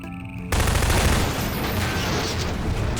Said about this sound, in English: causing an explosion which crashes a giant gate open